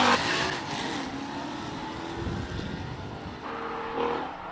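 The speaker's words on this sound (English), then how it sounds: "A host of Ford Mustangs representing Lindenberg Racing going up the hill." Ford Mustang race cars of Lindenberg Racing power up a hill climb at the Speed Classic in Cape Town, engines roaring loud and continuous with rising revs and shifting pitch, no talk over them.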